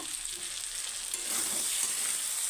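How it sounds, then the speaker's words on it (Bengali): Broiler chicken with sesame and green chillies frying in a pan, Assamese style; a steady close sizzle and crackle with no talk, growing slightly louder partway through. "কাঁচা লঙ্কা দিয়ে এটাকে আরও অল্প ভাজি করব।"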